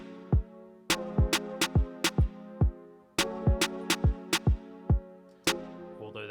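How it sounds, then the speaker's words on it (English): A programmed snare drum in a hip-hop beat strikes in two quick bursts of hits, each crack trailing into a long, washy reverb tail, with no voices present. "So here's our snare drum, and we are going to add a bunch of verb to it"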